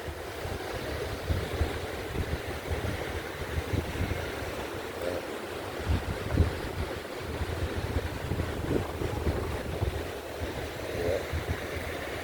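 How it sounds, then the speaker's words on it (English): Ocean waves and wind at Daytona Beach, a steady moderate wash of surf with gusty rumbling wind noise and occasional faint thumps, no talking. "That ain't nothing but the ocean behind me"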